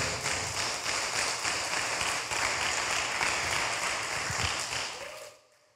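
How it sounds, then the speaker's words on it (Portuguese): A church congregation applauds with dense, fairly loud clapping that carries on steadily for several seconds before quickly fading away near the end. "Vamos aplaudir a Deus pela vida deles?"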